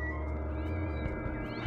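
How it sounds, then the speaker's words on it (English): Cats meow in the Voodoo Vince Remastered video game with faint, drawn-out, wavering tones over a steady game background hum, and no one talking. "Why do I hear cats?"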